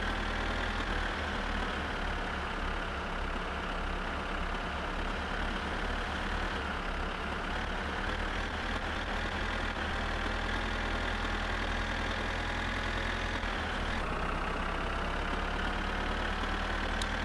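A tractor engine in My Summer Car labours steadily while pulling a heavy load, a continuous low, rumbling drone with faint knocking that holds constant, briefly dipping and recovering near the end.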